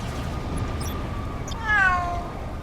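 In the Champions Online video game, a cat meows once from a glowing cat box. It is a short, clear meow over a low steady background.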